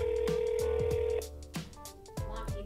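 A telephone places a call to Pizza Hut: a steady tone gives way to a string of short electronic beeps and ringing pulses, heard close and clear.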